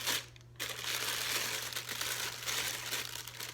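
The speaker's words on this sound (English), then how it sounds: "so let's unwrap it." Plastic wrapping on a power supply and power cord being pulled open, a steady close crinkle and crunch that goes on almost without a break.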